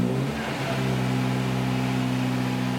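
A 1954 MG TF 1250 engine runs close by at a steady low idle, a continuous loud droning hum with a brief rise at the start, with no talk over it.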